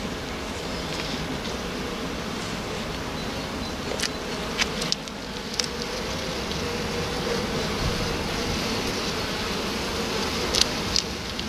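Young honeybees hum steadily on a hive comb while frames are handled, a close continuous buzz with a few brief louder clicks and knocks and no talk.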